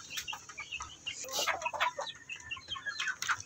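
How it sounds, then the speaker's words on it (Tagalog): A mother hen in a small breeding pen clucks repeatedly in short, close bursts, with faint chick peeps and light farmyard background. "So yan lang yung ating inahin guys."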